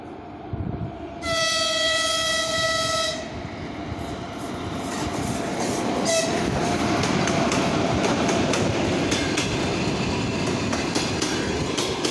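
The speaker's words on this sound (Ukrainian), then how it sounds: "Далі перший платформа прибуває нічний номер 44 з сполученням Івано-Франківський." A ChS4 electric locomotive hauls night express passenger train 44 from Ivano-Frankivsk to Kyiv into the station. A loud horn blast is followed by a steady, building rumble and the clatter of wheels.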